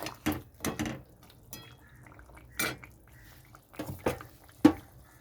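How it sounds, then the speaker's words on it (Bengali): A lid comes off a cooking pot on a gas stove where potatoes and papaya have boiled for a fish curry, giving several light metallic clinks and clanks close by, with quiet gaps between them and no talking. "চাপাটা নামিয়ে নিচ্ছি।"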